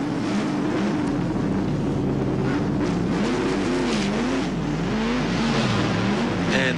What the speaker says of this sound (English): And out goes that car.